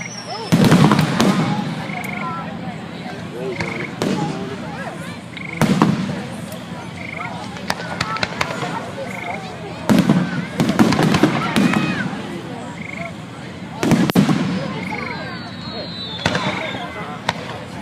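Fireworks burst over a field down a hill at night, a series of sharp booms and crackles at irregular intervals, fairly close and loud, with people talking between the bangs.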